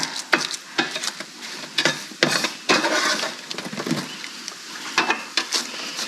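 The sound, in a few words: quick stir of ratatouille in a pan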